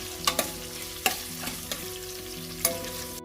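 Onions frying in oil until light brown: a gentle, constant sizzle broken by a handful of distinct clacks of a spatula stirring against the pan.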